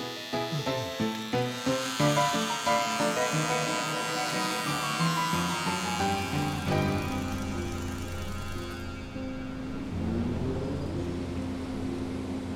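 Manscaped Beard Hedger electric trimmer shaving off a beard: a loud, steady buzzing motor drone with shifting pitch as it cuts through the hair, with a brief rhythmic pulsing at the start.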